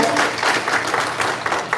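Fans at a Wheel of Time convention panel clap in a short, lively burst of applause, the hand claps close and continuous throughout.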